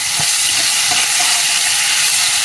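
Onion and green chilies fry in a pan, a loud, continuous close sizzle and hiss with faint stirring scrapes.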